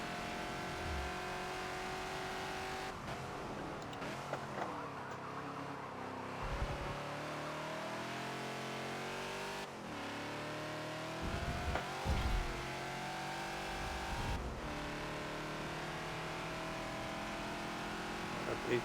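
A Ford Falcon XB race car driven hard around Hockenheim National in Forza, its engine revving up and down through gear changes, with tire squeals and sharp shifts, steady and close throughout.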